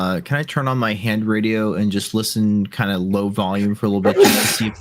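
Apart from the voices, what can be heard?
sneeze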